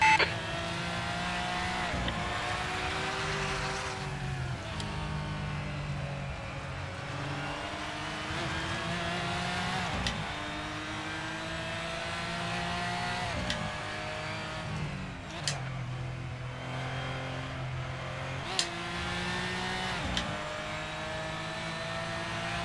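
GT4 race cars lapping Brands Hatch in Assetto Corsa, engines droning and shifting through gears steadily, with repeated revving surges and occasional brief tire squeals, loud and continuous throughout.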